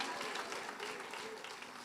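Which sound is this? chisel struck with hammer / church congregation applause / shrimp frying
church congregation applause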